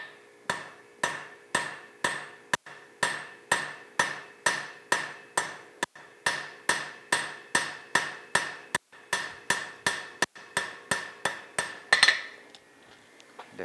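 A farrier's hammer, held slightly tilted, strikes a horseshoe heel over and over in a fast, even rhythm of sharp metallic rings. About two dozen close blows come before a short pause at the end.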